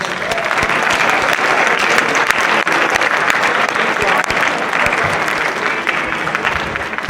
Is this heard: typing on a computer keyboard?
no